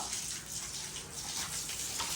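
Water is poured out for bathing in a village courtyard, a close, continuous gushing splash that stays steady throughout.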